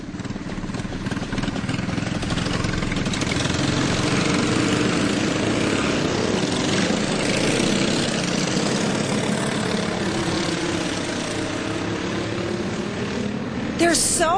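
Go-karts race around a track in a steady, buzzing engine drone that rises and falls as they pass, moderately loud and continuous throughout.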